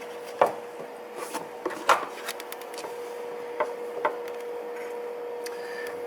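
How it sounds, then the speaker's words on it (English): Sharp metallic clunks and light taps ring out as a new passenger-side motor mount is set into place on a 2008-2012 Hyundai Santa Fe. A few louder knocks stand out above a faint steady hum. "So we just place the motor mount in."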